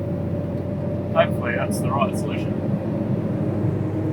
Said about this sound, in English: sorry about the engine noise there